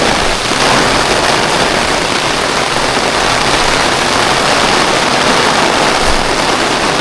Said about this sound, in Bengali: প্রচুর প্রচুর বৃষ্টি হচ্ছে